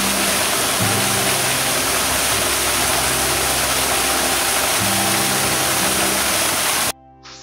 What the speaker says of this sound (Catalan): quan ha plogut molt, l'aigua del torrent de Ribatallada baixa així